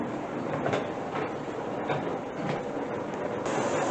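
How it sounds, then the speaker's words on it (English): Pressure canner venting steam while canning beef stew, a steady loud hissing rush with rhythmic chuffing surges, close and continuous throughout with no talk. "You can see that nice steady stream of steam there. Like a choo-choo train."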